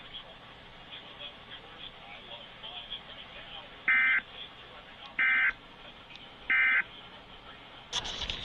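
Iowa Emergency Alert System test: three loud, clean electronic tone bursts of about a third of a second each, evenly spaced over a faint background hum, followed by a brief burst of noise at the end.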